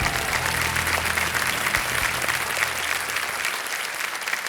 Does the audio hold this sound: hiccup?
no